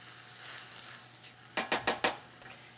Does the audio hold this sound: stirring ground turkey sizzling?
yes